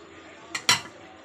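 Fried okra tipped into a pan of soy sauce, two quick clinks of a utensil against the pan over a soft background, close and brief.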